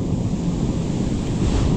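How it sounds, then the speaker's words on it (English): A sudden squall strikes a remote riverside camp, with roaring gusts buffeting the microphone over a dense, constant wash of wind and waves, loud and close, with no talking. "There was a quick storm."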